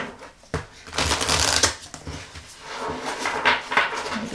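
Tarot cards riffle shuffled close up, with crisp bursts of flapping cards and soft taps as the deck is squared, repeated in several quick rounds.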